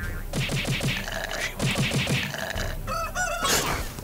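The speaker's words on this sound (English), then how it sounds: "Chicken. Rooster." A rooster crows loudly and close by amid rapid, repeated chicken clucking, with the bursts coming in quick rhythmic runs.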